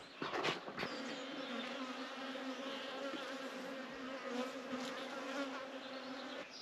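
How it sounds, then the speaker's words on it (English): Bees buzz steadily around a swarm trap in a dense, continuous drone, with several insects passing close by, loud and unbroken through the whole stretch. "The bees have been flying around that now for about 2 weeks."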